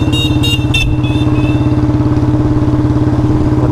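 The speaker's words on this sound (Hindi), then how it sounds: "बुलेट जब स्लो चला रहे हैं हम लोग, जैसे कि अभी थर्ड यानी फोर्थ है उस पर चलाते हैं" A Royal Enfield Bullet 350 BS4 with a C-bend pipe and long Punjab exhaust rides slowly in fourth gear, its loud, close single-cylinder thump pulsing steadily, with a brief higher whine near the start.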